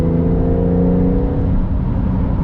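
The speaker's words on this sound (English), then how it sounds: "And you can hear this beautiful engine." A Porsche 911 GTS engine drones steadily while driving on snowy winter roads, a loud, continuous low hum with layered tones that slowly shifts pitch, close by and without any talk.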